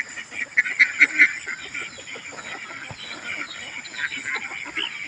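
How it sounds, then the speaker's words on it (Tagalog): Ducks on a duck farm, some lame and weak, give loud overlapping honking quacks close by, with a few strong calls early on and steady flock chatter throughout. "May mga pilay na itik oh. Mga nanghihina mga itik guys oh."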